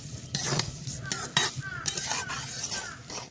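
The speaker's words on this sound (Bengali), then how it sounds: "এইভাবে কিছুটা সময় চালটাকে কষে নেব" Rice being sautéed and stirred in a pan for a Bengali biryani with thankuni leaves, with a steady sizzle broken by repeated scraping strokes of a spoon against the pan, close and fairly loud, with no talking.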